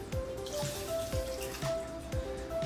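A cup of water pours steadily into a saucepan with rice, a bubbling, gurgling sound, close by and continuous, with small rhythmic splashes.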